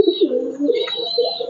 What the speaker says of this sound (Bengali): ছাদের ভিতরে এইভাবে পালছি আমি কবুতর।